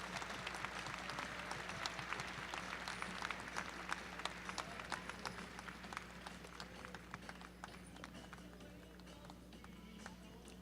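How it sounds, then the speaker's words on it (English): An arena audience applauds youth team drivers, steady scattered clapping carrying faintly over a low constant hum, with a few louder claps standing out as it slowly eases off. "give them a nice round of applause as they make their way out"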